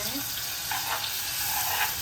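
Chickpea masala is stirred and fried in a pan, making a continuous dense sizzle with soft scraping and faint watery bubbling throughout.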